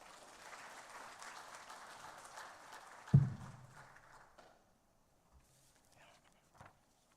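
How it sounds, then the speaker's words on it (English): An audience at a conflict prevention and sustainable peace forum applauds a speaker, a dense clapping that swells briefly, then fades into quiet with a few scattered sounds. "A round of applause, please."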